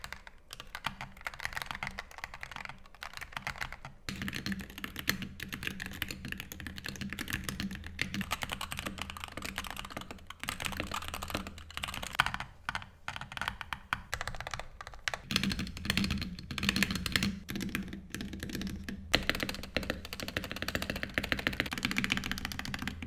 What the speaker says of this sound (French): Lamzu a vraiment insisté sur la qualité de frappe avec ce clavier qui est super creamy